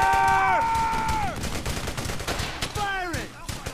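Gunfire in the World War II shooter Brothers In Arms: Hell's Highway during suppressing fire: loud sharp bursts of shots, a ringing tone fading after the first volley, then another burst with a second ringing tail.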